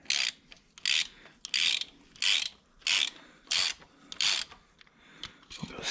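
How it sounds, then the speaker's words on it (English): A ratcheting wrench snugs a bolt on a 1998 Toyota Camry engine during a rod bearing replacement, giving seven or eight rhythmic bursts of crisp pawl clicking, close and loud, separated by short pauses. "we're gonna take our ratcheting wrench and we're gonna snug it"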